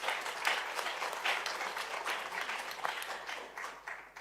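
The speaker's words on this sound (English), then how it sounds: "Please give His Excellency another clap" An audience at an African Bar Association gathering gives His Excellency Thabo Mbeki a full round of applause, a thick, lively clatter of many hands that holds steady before tapering slightly at the end.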